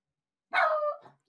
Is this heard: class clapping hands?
no